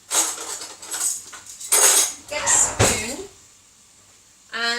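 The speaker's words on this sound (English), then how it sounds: "I am going to just get my teaspoon and I'm just pulling it down over the skin of the ginger" A teaspoon scrapes the skin off fresh ginger in several short, close bursts of rasping scratches, with a brief pause between strokes and a light knock at the end.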